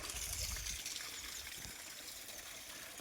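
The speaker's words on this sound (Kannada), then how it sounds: "ನೋಡ್ರಿ ಹೆಂಗೈತೆ ಜಲಪಾತ ನೋಡ್ರಿ ಈಗ ನೋಡ್ರಿ" Waterfall at a hill temple, a steady broad rush of flowing water heard close and continuous, with no voices.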